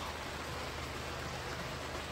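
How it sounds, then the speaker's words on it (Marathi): Heavy rain pours in a steady, dense hiss, uniform and unbroken throughout, fairly faint with no voices. "जायच्या टायमिंगला यायला लागला मोठा पाऊस"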